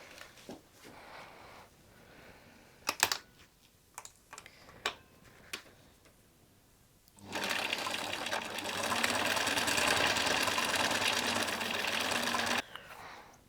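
A sewing machine runs in one steady whirring burst of about five seconds while stitching the short side of a knit neckband, preceded by a few light clicks and fabric handling, with no talk.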